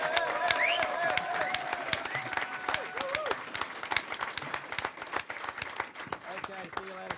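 An audience at a press conference claps and cheers in a scattered burst of applause, with voices talking and calling out over the clapping close by.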